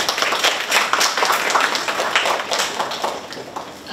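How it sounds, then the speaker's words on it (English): Close, lively audience applause with dense, rapid clapping filling a short stretch at a peace-themed gathering, loud and steady with no talk over it. "Give applause to them."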